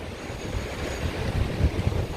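Strong wind buffets the microphone at Maspalomas beach by the lighthouse on Gran Canaria, a low, gusty rumble that swells and surges unevenly over roughly two seconds.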